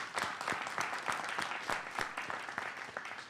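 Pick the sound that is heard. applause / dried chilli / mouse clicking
applause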